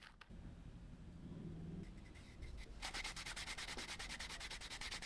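Steady abrasive rubbing on leather, continuous scraping strokes that turn into a fast rhythmic back-and-forth burnishing in the second half, close and fairly loud.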